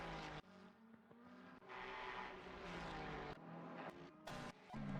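A number 23 Ferrari race car engine in a sim racing league event at Spa, revving and shifting through gears as it rounds a corner, loud and close with brief tire noise.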